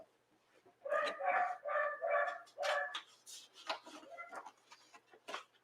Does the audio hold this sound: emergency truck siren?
no